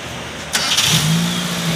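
A vehicle engine starting after preventive maintenance, catching with a short burst and settling into a steady running hum, close and fairly loud, briefly and alone.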